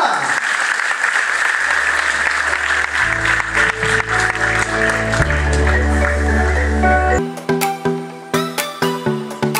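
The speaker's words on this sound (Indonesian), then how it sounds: "dan berikan tepuk tangan yang paling meriah." An audience applauds at the Mindful Project 2018 event. The steady, dense clapping runs under loud music with sustained tones, and it thins toward the end as sharp musical hits take over.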